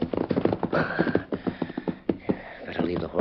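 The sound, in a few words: horse hooves and whinny in a radio drama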